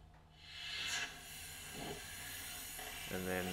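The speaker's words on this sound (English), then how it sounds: "using my airbrush again, this time with the transparent black" An airbrush sprays transparent black paint through a mask in short bursts, each a soft close hiss starting and stopping, with a faint tonal sound near the end.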